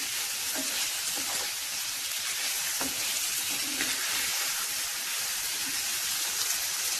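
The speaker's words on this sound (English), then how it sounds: "And continue to stir back and forth with my wooden spoon." Onions sizzle steadily in a hot pan while a wooden spoon stirs them back and forth, giving a continuous close frying hiss with soft scraping touches.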